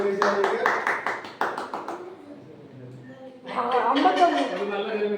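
A quick run of hands clapping at a family birthday get-together, several sharp claps close by before voices take over and people chatter.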